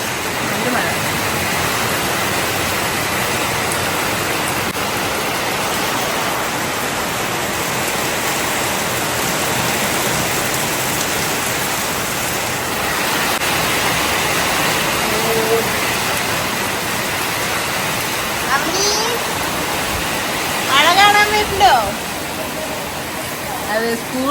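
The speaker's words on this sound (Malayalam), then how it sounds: "ഇങ്ങനെ മഴ പെയ്യും" Steady rain pours down in a constant broadband hiss, with a few brief louder patters and faint activity near the end.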